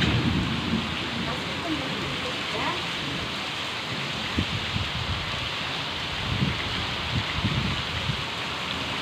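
Heavy rain pours in a steady, dense hiss, with faint low rumbles underneath, continuous throughout.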